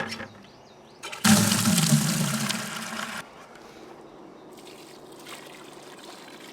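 Water gushes loudly into a bowl of homemade pig feed for a couple of seconds, then drops to a softer trickle and splash as the mash is mixed.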